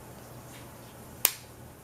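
Makeup palette case snapping shut, a single crisp click close up against a quiet room.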